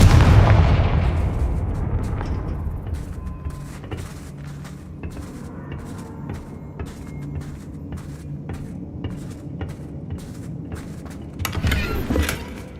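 A Confringo fire spell in the Hogwarts Legacy video game, fought against Ashwinders, lets off a loud, booming blast that fades into a low rumble with scattered clicks, then another burst flares up near the end.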